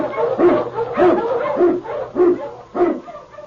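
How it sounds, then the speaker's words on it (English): An Eskimo lead dog barks about six times in a steady, spaced rhythm, each bark short and full-voiced, close and fairly loud, as a radio drama effect. "King, the swiftest, strongest of Eskimo lead dogs, blazes the trail through storm and snow"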